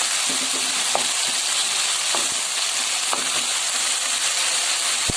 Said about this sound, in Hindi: अब इसमें हम ये टमाटर डालेंगे।